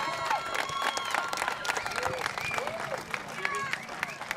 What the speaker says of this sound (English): Great support from the crowd